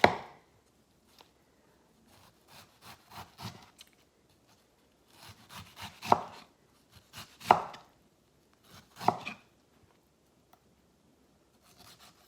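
A kitchen knife julienning peeled mango on a cutting board, with clusters of crisp chopping taps and scraping strokes coming in bursts and short pauses between them, close and fairly quiet, with no talking.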